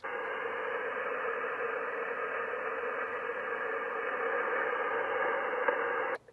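An amateur radio receiver on the 10-meter band gives off a continuous hiss of static with a weak signal buried in the noise, steady and unbroken until it cuts off abruptly.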